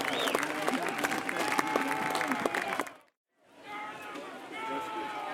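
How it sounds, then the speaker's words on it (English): A crowd at a BBQ and bluegrass festival award ceremony applauds a placing team with steady clapping under an announcer's amplified voice, which cuts out briefly before the applause and talk continue at a lower level. "Give them a round of applause."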